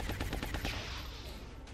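Rapid bursts of automatic gunfire from the video game XCOM: Enemy Within, a close, dense run of sharp shots in the first part that trails off into a noisy rumble.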